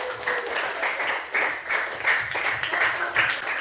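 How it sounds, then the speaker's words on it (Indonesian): Students in a classroom clap together after presentations, a dense burst of applause with rhythmic swells that continues steadily for several seconds without talk. "Mari kita berikan tepuk tangan sekali lagi."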